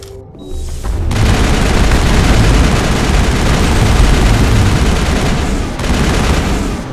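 Gunfire in a Mass Effect firefight inside a lab, a loud, dense barrage of overlapping shots and booms that starts abruptly and continues without a break.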